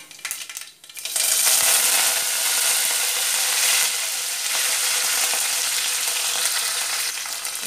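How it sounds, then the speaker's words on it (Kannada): Mustard seeds crackle and splutter in hot oil, a dense, loud sizzling burst that kicks in suddenly after a brief quieter start and keeps popping steadily close by. "ಎಣ್ಣೆ ಬೆಚ್ಚಾಯ್ಕ ದಾಸೇಂ ಪಾಡುಗ ದಾಸೇಂ ಪಟ ಪಟ ಆಯ್ಕ"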